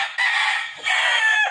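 A broodstag rooster at a Filipino gamefarm crows loudly and close by in one long, strained call with a brief break in the middle, and no voices over it.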